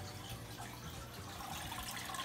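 An aquarium filter runs in a 75 gallon tank, a soft continuous trickle and splash of water, faint and steady with no voices.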